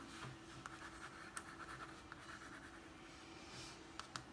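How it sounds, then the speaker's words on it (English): A pencil lightly sketches outlines on paper, soft close scratching strokes in short irregular bursts with brief taps, quiet and alone. "just lightly putting in the outlines of those with my pencil"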